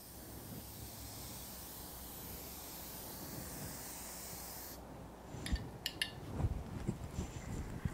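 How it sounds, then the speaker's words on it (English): Aerosol can of fixative sprayed across a pastel artwork, a long continuous hiss that cuts off abruptly near the end, followed by faint handling clicks and knocks. "Got it shaken up. And just spray right across"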